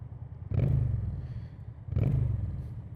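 A 2022 Honda VT750C Shadow Aero on its stock exhaust gives two deep, rumbling throttle blips about one and a half seconds apart, each fading under a low, steady idle, fairly quiet overall.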